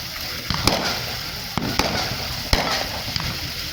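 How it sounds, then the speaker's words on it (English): Fireworks crackle and pop repeatedly, with several sharp bursts spread over a few seconds at a distance, over a steady hiss of background noise. "How many fireworks did they buy?"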